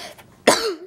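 A single sharp cough bursts out suddenly, loud and close, after a quiet moment, trailing into a brief voiced tail.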